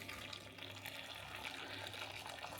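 Boiling water pours steadily onto cream of rice in a kitchen, giving a continuous, fairly quiet hissing splash of liquid without a break.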